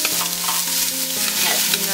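Cinnamon stick and cloves sauteing in a pan for fried rice, a loud, close, continuous sizzle with stirring scrapes and no voices.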